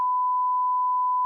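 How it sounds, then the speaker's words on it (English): Censor beep over a quoted line in a podcast conversation: a single steady, pure electronic tone at constant loudness, lasting just over a second, with no voices. "So I guess I have to beep that out."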